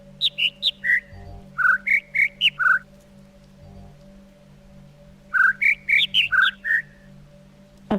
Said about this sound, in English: the second bird sound is four sounds